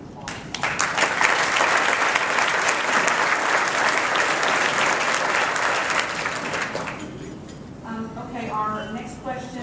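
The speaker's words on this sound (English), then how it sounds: "I'd just like to give a round of applause" A sustained round of applause from the audience at an organization's event fills most of the stretch at steady volume, then cuts off and gives way to someone speaking.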